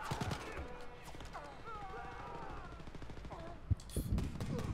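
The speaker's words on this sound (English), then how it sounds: "Shot with a pistol." Pistol gunshots ring out in Wolfenstein: Youngblood, a few sharp reports near the end amid game sounds, with people talking over them.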